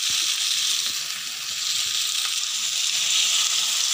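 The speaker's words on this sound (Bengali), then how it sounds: "বাটিটা দিয়ে জল দিলাম" Water from a bowl goes into masala frying in a pan for patol paneer, giving a continuous loud hiss and sizzle close up with no pause.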